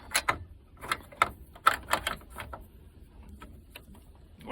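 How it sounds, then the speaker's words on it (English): Ratcheting clicks from a 9/16 socket wrench backing off the radio retaining nuts in a 1966 Dodge Dart GT, quick close bursts of ticks in the first two seconds, then fainter scattered clicks. "This is just getting those nuts that hold the radio in, and this is a 9/16 socket."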